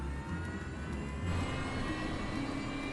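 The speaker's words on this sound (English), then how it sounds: "Captain Morwood uses the power of engine number 2, already running, to fire engine number 1" A Fokker F-28 jet engine spools up as it is started using power from the second engine already running, giving a steady, loud turbine roar with a whine that rises and holds throughout.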